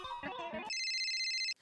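A phone rings with a bright electronic tone, a steady buzzing ring lasting under a second, following a brief burst of muffled music and voices in a comedy scene.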